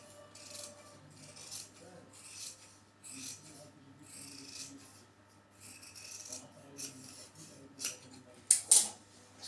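Scissors cut fabric along chalk markings for a child's uniform top, a series of soft snipping and rasping strokes with quiet pauses, ending in a couple of louder sharp snips close by.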